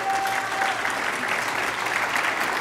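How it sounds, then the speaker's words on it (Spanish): A church congregation applauds steadily, a dense wash of many hands clapping in a large room, evenly loud throughout without any voices standing out. "Denle un aplauso aquí."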